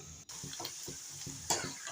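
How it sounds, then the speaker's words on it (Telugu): Peanuts and garlic roast in a pan for a peanut powder, giving a faint, dry sizzle with a rhythmic series of soft stirring scrapes and a brief clink. "కొన్ని వెల్లిపాయలు, పల్లీలు బాగా వేయించుకోవాలి."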